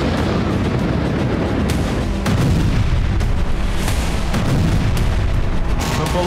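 Repeated dull booms and blasts from drone explosions over Moscow, heavy and continuous rumbling with several sharper impacts, loud and dense throughout with no speech.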